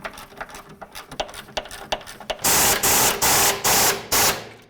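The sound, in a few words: tightening sway bar bushing bolts on GMC Sierra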